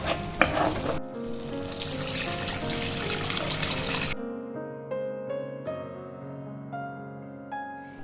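Water poured into a hot frying pan of stuffed potato masala, a loud hissing splash for the first seconds that quickly fades to a softer simmer with faint clinks.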